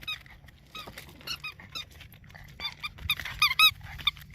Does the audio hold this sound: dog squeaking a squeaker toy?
yes